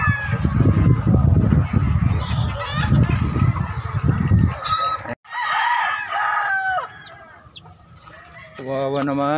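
Chickens at a poultry farm cluck and crow, starting as a dense, noisy flock and then giving way to clear, close individual calls and a rooster's crow, with someone speaking at times.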